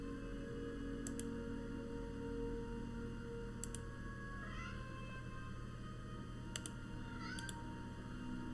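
A house cat meows a few times, faint and short, against a steady hum of computer noise and occasional keyboard clicks, with no talk.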